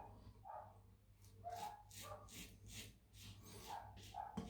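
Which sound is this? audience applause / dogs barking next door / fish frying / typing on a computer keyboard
dogs barking next door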